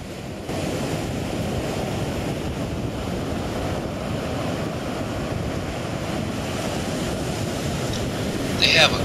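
Ocean waves break steadily at Cabarete Beach, a kitesurfing spot in the Dominican Republic, a continuous loud roar of surf with wind buffeting the microphone throughout.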